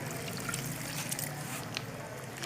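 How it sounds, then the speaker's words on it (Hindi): Water trickles and pours into a cooking pot of tinda gosht, a steady close splashing stream with a faint background hum and no talking. "इसके अंदर अभी हमने थोड़ा सा पानी ऐड करना है।"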